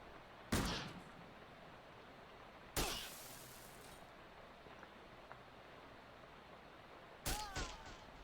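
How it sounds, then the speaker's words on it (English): Gunshots in the video game Shadows over Loathing sound as three sharp, separate cracks spaced a few seconds apart, each with a short decaying tail, over a quiet background. "now let's shoot it"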